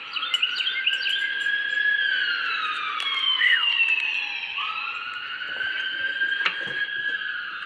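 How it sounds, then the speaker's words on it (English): A wailing siren rises and falls steadily at a moderate distance, with faint bird chirps scattered over it and no voices. "Y'all hear them sirens?"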